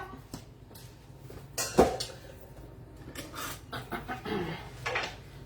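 A bowl set into a dishwasher while making Italian-style waffles at home, with a few brief dish clatters and clinks, one sharper knock standing out among quieter kitchen handling noises.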